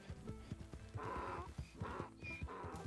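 Zebra from Red Dead Redemption 2, its hooves clopping steadily nearby while short whinny-like calls rise over the footfalls a couple of times, with no voices.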